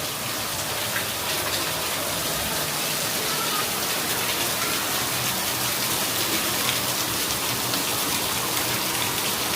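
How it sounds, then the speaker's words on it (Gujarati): Heavy monsoon rain pours down under dark clouds, a dense, unbroken roar of drops hitting surfaces, loud and steady throughout with no voices. "કેમ કે ફૂલ વરસાદ ચાલુ થઈ ગયો"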